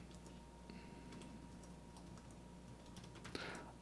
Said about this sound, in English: as I'm typing